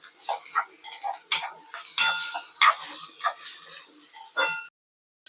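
Baby prawns stirred with onion and turmeric in a pan, giving sharp intermittent scrapes and clinks of a spoon against metal, close and irregular, with no talking.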